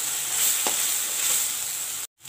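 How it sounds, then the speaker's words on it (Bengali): Spice paste with salt and turmeric frying in oil in a pan, a steady bright hiss of sizzling, close and constant, with a brief clatter and a short drop-out near the end. "দিয়ে খুব ভালো করে মশলাটাকে আমি কষিয়ে নেব"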